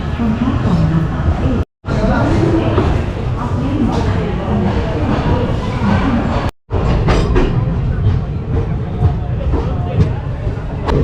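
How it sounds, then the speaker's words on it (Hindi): Shramjeevi Express rolling out of New Delhi Junction, a loud, close rumble of coaches and track noise with clattering rail joints, briefly cutting out twice, while someone talks over it. "अपने ट्रेन नई दिल्ली जंक्शन से रवाना हो चुके हैं।"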